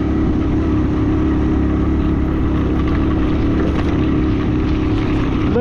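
A Hero Passion Pro motorcycle engine strains loudly and steadily while climbing a steep dusty road toward high-altitude Ladakh, a constant close drone with wind noise and no pauses.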